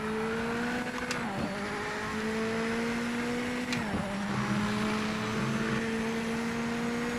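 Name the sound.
race car tyres on a wet track in Project Motor Racing video game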